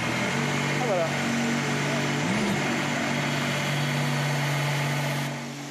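A Formula 1 race car engine starts and idles, humming steadily with a low drone and a brief rising rev, while voices talk over it throughout.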